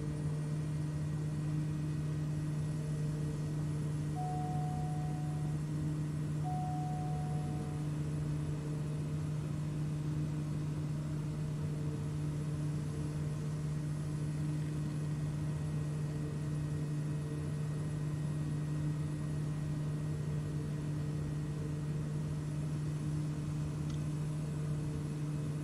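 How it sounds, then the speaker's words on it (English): Engine sound from a car driving simulator game plays over loudspeakers as a steady, continuous hum with a constant low drone and no change in pitch. "My sim wants to give me all the engine sounds over my loudspeakers"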